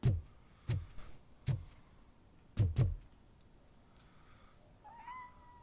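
A cat meows in the Robocop Rogue City video game, a short faint call near the end after several soft thuds, with quiet room ambience and no talking.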